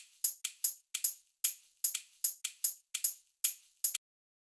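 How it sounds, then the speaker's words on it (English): Sharp, bright clicky percussive hits programmed in Ableton Live form a 5 against 4 polyrhythm, about a dozen crisp ticks interlocking unevenly over one bar, dry and alone with no voices. "So I just made a 5 against 4 polyrhythm."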